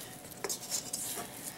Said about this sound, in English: What I'm going to do is just scrape down the side of my bowl